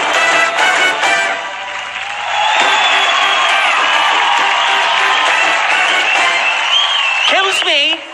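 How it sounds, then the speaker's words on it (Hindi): A studio audience at a comedy game show claps and cheers loudly, sustained applause with whoops building after a brief dip, and voices breaking in near the end. "बहुत जोरदार तालियां वीवो V9 के लिए भी"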